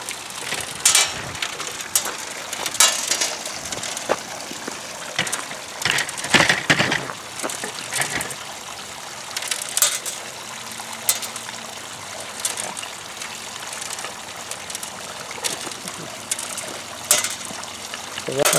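A gold trommel runs with its spray bar washing material, a rattling, ratcheting mechanical churn of rock and tumbling barrel mixed with running, trickling water, steady and close throughout.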